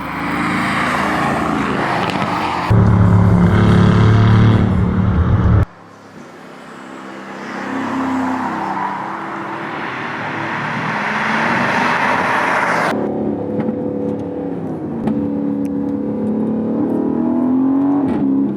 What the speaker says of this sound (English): The B-Turbo 4-liter V8 with turbos mounted inside rather than outside